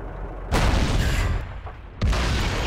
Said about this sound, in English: Shot and a hit on Smiling Bob